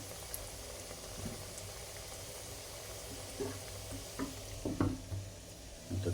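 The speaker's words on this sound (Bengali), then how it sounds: "এদিকে ভাজা শুরু হয়ে গেছে" Food frying in oil gives a soft, steady sizzle and bubbling, fairly faint, with a few clinks and stirring knocks growing more frequent toward the end.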